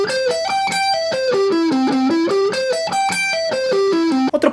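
Electric guitar played with distortion runs rapid sweep-picked arpeggios, a continuous cascade of quick rising and falling notes, loud and close with no talk.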